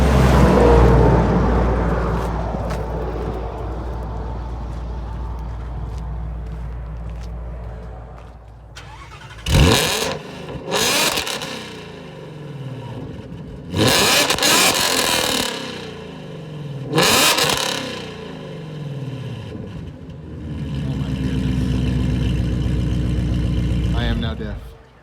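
A car engine, likely a 1968 SS Camaro, starts and revs hard in several loud bursts with idling between, close by, while people talk at the start.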